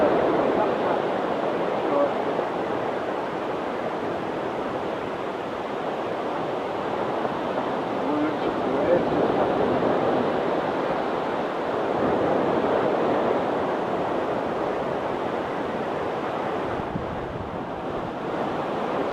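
Sea surf on the beach at South Withernsea while fishing on a rising tide, a constant broad wash of breaking waves mixed with heavy wind buffeting the microphone, loud and unbroken for the whole stretch.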